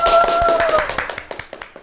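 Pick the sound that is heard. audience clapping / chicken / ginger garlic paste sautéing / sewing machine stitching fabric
audience clapping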